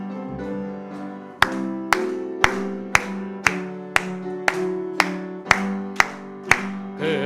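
A church congregation at a Wednesday Methodist service in Miryang claps on the beat while singing hymn 269. The loud, even claps fall about every half second over sustained organ-like singing.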